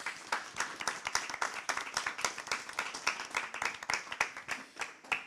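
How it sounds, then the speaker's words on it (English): Audience applause welcomes a speaker onto the stage: a steady, fairly quiet wash of many hands clapping together at a moderate distance, with no voices over it. "Can we have a round of applause, please?"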